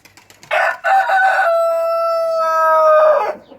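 A rooster in a poultry yard lets out one loud, close cock-a-doodle-doo, opening with two choppy bursts and then a long sustained drawn-out note that fades at the end.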